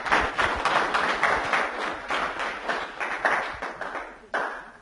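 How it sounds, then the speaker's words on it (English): Audience applause at a pain relief and energy hypnosis seminar, dense steady clapping from a crowd lasting about five seconds, fairly close, with a brief dip near the end before it picks up again. "Give me a round of applause."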